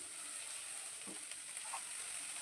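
Cauliflower and egg bhujia sizzles in a pan while it is gently stirred, a steady frying hiss with a few soft scrapes of the spoon, close by and with no talk.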